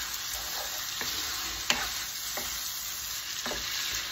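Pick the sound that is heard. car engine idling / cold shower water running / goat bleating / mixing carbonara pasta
mixing carbonara pasta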